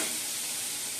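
Fried spice mix of dried chilli, bay leaf, ginger, cumin and turmeric tipped into khichuri, giving a brief, loud, steady hissing sizzle close up.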